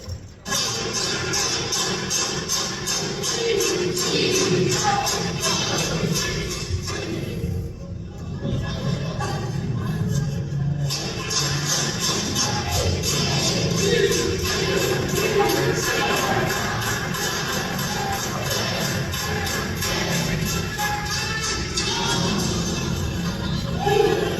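Conference audience in Seaside, Oregon performing the Autism Cheer, a loud, continuous crowd din of many voices chanting and cheering together, with a brief dip midway before the noise swells again.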